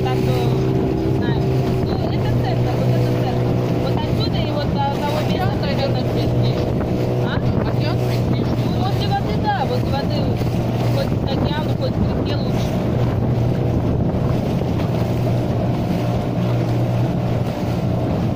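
Steady motorboat engine drone carries on a river near the ocean in a coastal delta, with wind buffeting the microphone and faint talk mixed underneath the continuous hum throughout.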